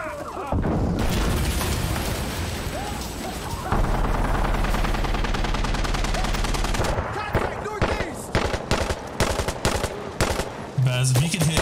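Sustained heavy machine gun fire from a DShK in the game Insurgency Sandstorm, long loud continuous bursts followed by choppier staccato shots and impacts, dense and close throughout.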